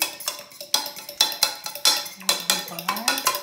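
Quick, rhythmic clinks of a utensil scraping and tapping against a bowl as ingredients for chicken cutlets are stirred, close and steady with no talking.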